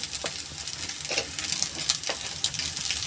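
Potato, cauliflower and peas stirred into pulao spices frying in a pan, with a steady close sizzle broken by repeated scraping stirs and no voices.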